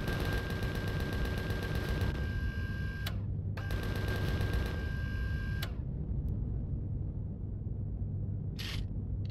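Four Gatling guns on a craft in Empyrion Galactic Survival Alpha 8 fire in a dense, rapid mechanical stream, break briefly, resume, then cut off, leaving a quieter rumbling background.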